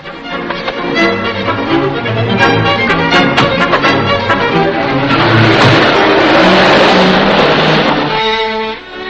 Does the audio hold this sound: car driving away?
yes